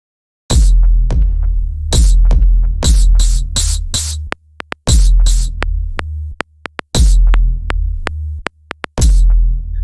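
Heavyocity DM-307 low-end percussive drum hits thump in a tight, precise pattern, deep booming kicks alternating with sharp clicky transients and brief gaps of near silence, loud and dry with no voices.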